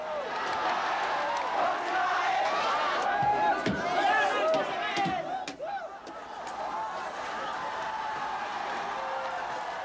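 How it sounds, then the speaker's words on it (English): A large crowd mobs the presidential palace in 1986 after Marcos fled, a dense roar of many voices with shouts and cheers swelling mid-clip before settling into a steady distant murmur. "Crowds mob the palace."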